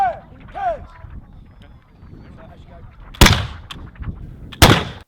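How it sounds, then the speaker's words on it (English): Reenactors of the 95th Rifles fire Baker rifles in an outdoor skirmish display, two sharp loud reports a second or so apart, with a voice and faint ambient noise before the shots. "You'll see them here demonstrating their Baker rifles"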